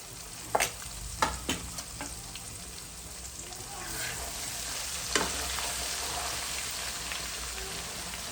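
Ginger garlic paste frying in oil left over from cooking chicken for a pickle, a soft continuous sizzle with a few sharp scraping knocks as a spoon stirs the pan, heard fairly close and without talk.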